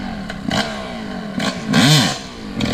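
Two-stroke motorcycle engine revving in short bursts on the throttle, with a rising and falling whine and some clatter, fairly close, no talk over it.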